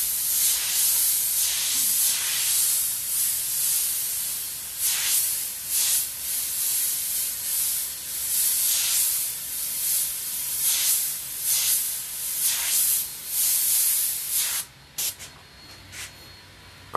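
An airbrush sprays Createx white paint as highlights on a painted skyline, making a steady close hiss broken into short bursts that surge and fade, with a few pauses near the end.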